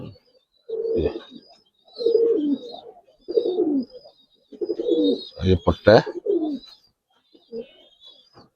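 Giribaz and coloured pigeons coo in a series of soft, throaty bursts close by, with a louder flurry of calls midway, while someone talks alongside them.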